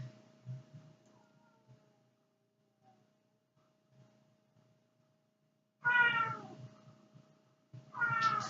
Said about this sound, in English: you can probably hear my cats in the background